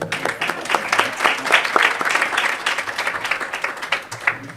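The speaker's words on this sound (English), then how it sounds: "A round of applause once more." A crowd applauding steadily at a poetry prize reading, dense rapid clapping that stays fairly loud for several seconds without letting up.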